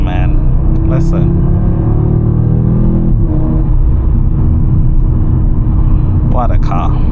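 A 2025 Audi RS3 facelift with a 400 hp five-cylinder and seven-speed S tronic gearbox revs hard from inside the cabin, a loud, deep, continuous engine roar with brief voice sounds.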